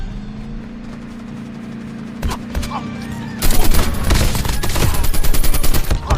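Rapid bursts of gunfire in Call of Duty Mobile, starting with a few isolated shots and breaking into dense, loud automatic fire after an engine hum fades.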